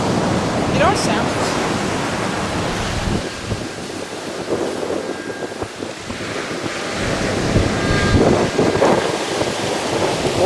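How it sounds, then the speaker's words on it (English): Atlantic surf on an Achill Island beach in Ireland, steady crashing and hissing waves mixed with strong wind buffeting the microphone, loud and continuous throughout. "Some nice waves today."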